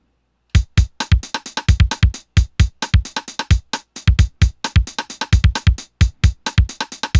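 Programmed beat on a Roland TR-505 drum machine: punchy kick and snare hits in a steady up-tempo pattern with bright cymbal crashes, loud and dry, starting after a brief silence and running continuously.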